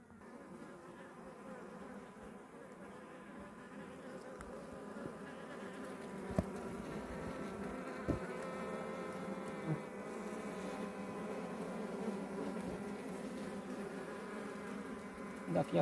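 Wild bees buzzing around their nest in a rock crevice out in the bush, a continuous close droning hum with a few faint knocks scattered through.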